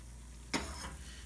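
Fried eggs sizzling in a hot pan with the heat cut: a low, steady crackle that jumps into a sudden brief burst of hissing spatter halfway through, then settles back to a softer sizzle.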